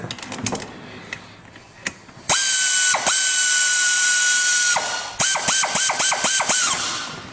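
A power ratchet turns bolts during EGR valve and DPFE replacement on a 2019 Lincoln Nautilus. One long, loud, close whirring run gives way to a quick series of short bursts, each ending in clicks, with no talking.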